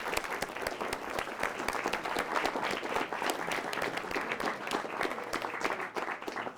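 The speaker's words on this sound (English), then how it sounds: "let's have a big round of applause for all the children's stories" An audience at a children's writing contest celebration claps for the young writers' stories, a sustained, even round of applause from many hands, somewhat distant and moderate in level.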